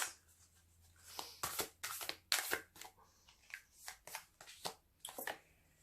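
Tarot cards shuffled and drawn by hand, a close series of crisp riffling, slapping bursts in an irregular rhythm, moderately loud over a quiet room with no talking.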